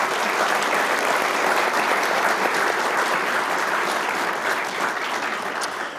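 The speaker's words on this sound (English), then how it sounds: "Let's have a first round of applause for everyone on the panel." A conference audience applauding a discussion panel, dense sustained clapping from a full room that holds steady for several seconds and then starts to thin out.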